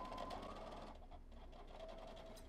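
A sewing machine runs steadily up close as it stitches a rolled hem on a button-down shirt, a fast, even mechanical whir that carries through the whole span without talk.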